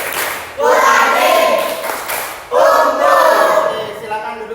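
A class of students chanting a rhythmic clap routine in a classroom, two loud bursts of group voices in unison with clapping mixed in, separated by a short pause.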